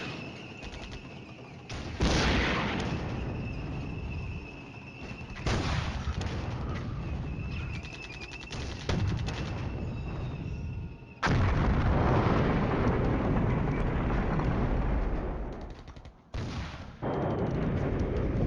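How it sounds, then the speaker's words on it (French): Repeated artillery barrages and gunfire from the Cold War wargame Flashpoint Campaigns, loud dense volleys and booming impacts arriving in several long bursts separated by brief lulls. "On prend également 10 tirs d'artillerie."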